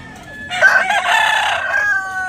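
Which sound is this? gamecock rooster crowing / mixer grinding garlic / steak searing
gamecock rooster crowing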